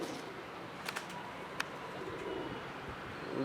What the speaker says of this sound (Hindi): डब वाले कबूतर।